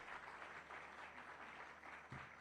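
A large audience at a Google Kenya anniversary event applauds steadily, dense clapping that fills the whole stretch at an even level with no speech over it.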